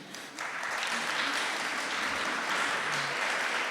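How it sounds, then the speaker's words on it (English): An audience claps for a speaker at an exhibition launch event, a dense, steady round of applause that swells in after a brief quieter start and holds at a fairly loud level throughout. "a round of applause for him"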